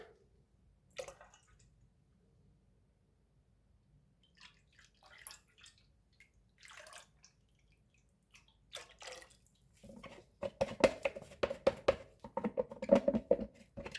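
Lye solution is poured into blended oils for pine tar soap, starting as sparse faint drips and splashes and then becoming a steadier close liquid pour and patter near the end, with no talk.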